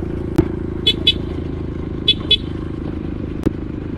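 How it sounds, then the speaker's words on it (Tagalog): Motorcycles pass on a bypass road near the bridge between Trece Martires and Naic, a steady engine drone with a few sharp clacks and short toots, moderately close. "O yan may mga motor oh."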